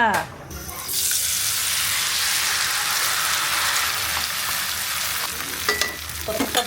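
Loud, steady sizzling of food frying in butter in a pan, beginning abruptly and continuing with occasional stirring clatter, a voice briefly heard near the end.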